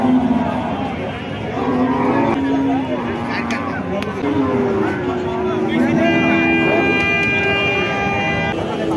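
Cattle mooing at a market selling lean, bony cows, with several lowing calls through a steady crowd din, people talking and occasional horn toots in the background.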